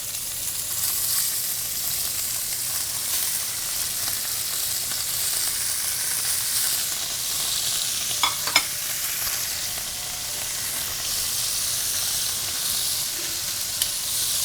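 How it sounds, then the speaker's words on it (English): Short ribs searing in a hot pan for a braise, a steady loud sizzle and hiss running throughout with a few brief clinks of handling near the middle. "we have to get a nice, beautiful sear on these short ribs that are going to develop a lot of flavor"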